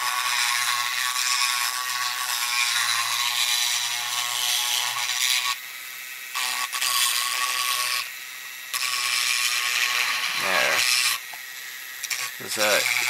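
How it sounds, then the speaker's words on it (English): A small rotary router smooths the cut edges of a 1:6 scale sofubi soft vinyl figure kit, giving a continuous high whine and grinding rasp with brief dips where the tool lifts off, close up. "So what I'm doing now is kind of smoothing out the edges here with my router."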